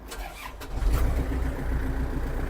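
A Kubota mini tractor with a 2.2-litre four-cylinder engine cranks and catches, settling into a steady, loud low rumble close by.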